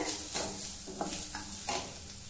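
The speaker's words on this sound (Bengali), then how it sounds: "দেখো আমার পেঁয়াজটা ভাজা ভাজা হয়ে গেছে" Onions fry with a steady sizzle in a pan, stirred in several distinct scraping strokes at a close, moderate level, with no voices.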